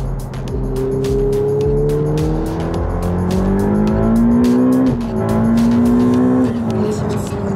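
A Renault sports car accelerates hard through the gears, its engine note rising and dropping sharply at each violent shift. The loud engine runs close throughout, with someone talking over it.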